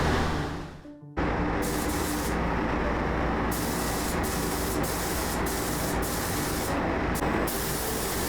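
Spray gun steadily painting a 1971 Corvette wide-body custom inside a paint booth, a loud continuous hiss after a brief quieter start, with short pauses in the spray.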